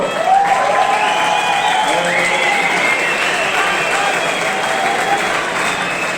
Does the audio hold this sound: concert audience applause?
yes